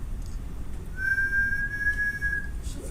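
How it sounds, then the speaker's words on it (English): A person whistles one steady, sustained pure note into a microphone in a lab setting, clear and close over a low background hum. "Start whistling."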